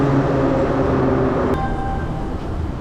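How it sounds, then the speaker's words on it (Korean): A fast subway train moves through a metro station in Georgia. It makes a loud, steady rumble with whining tones and a sharp hiss partway through. "지하철이 멈추기도 전에 문을 열어요."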